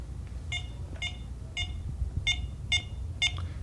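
Smart lock keypad on a 7000 series lock beeping as a PIN code is entered, six short evenly spaced electronic beeps close by over a low background hum, with no talking.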